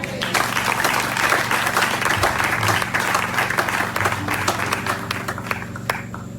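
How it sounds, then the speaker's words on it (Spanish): A church congregation claps together in sustained, busy applause, loud and close, with crowd voices and a low musical hum beneath it for the whole stretch. "Aplaude eso"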